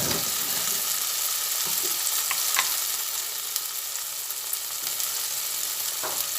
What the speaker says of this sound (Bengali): সব দিয়ে পরে ভালোভাবে কষিয়ে নিচ্ছি